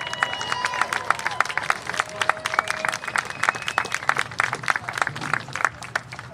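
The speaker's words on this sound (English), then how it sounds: "Let's give the 2024 homecoming court a round of applause." A crowd applauds the 2024 homecoming court at a St. Andrews University versus Reinhardt University football game, with steady, dense clapping and some cheering throughout and faint amplified tones early on.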